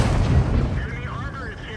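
A tank gun fires in the World of Tanks video game, one heavy booming shot up front that rolls off into a fading rumble, with a voice talking over it.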